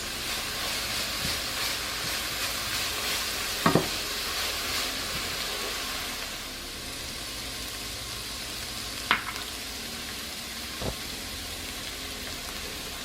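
Garlic frying in a pan at medium heat for a pork ragu gives a steady, soft sizzle throughout, with a few brief utensil scrapes and clicks cutting through.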